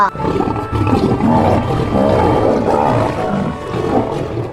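A lion roars loudly and continuously, a deep sustained growling roar that fills the whole stretch with no speech over it.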